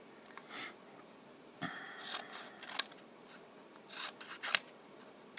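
Scissors snip out paper cards in several quick, close cuts and rustles, with a few sharp clicks of the blades between quieter pauses.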